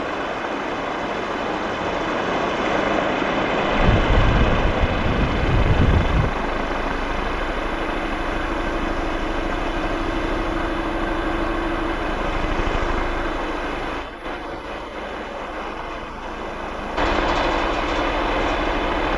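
A small model wind generator whirs steadily as the wind speed is raised, a broad rushing hum with a low droning tone that shifts partway through, loud and close with no talking.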